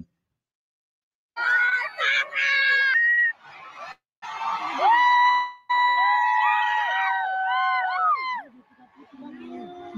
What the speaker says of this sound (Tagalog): tingnan nyo yung hiyawan ng mga tao